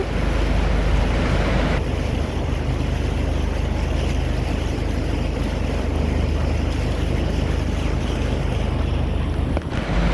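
A boat engine drones steadily as the hull cuts through water on the Srisailam reservoir, with wind buffeting the microphone throughout and no voices.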